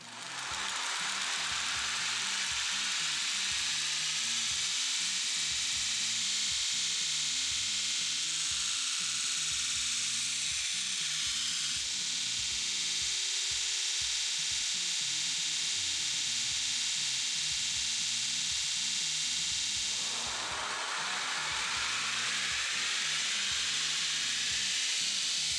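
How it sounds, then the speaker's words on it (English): Belt grinder rounding off the corners of steel knurling tool parts, a steady loud abrasive hiss and whine running throughout with shifting pitch as pieces are pressed and repositioned, no voices. "round off all the corners on the belt grinder"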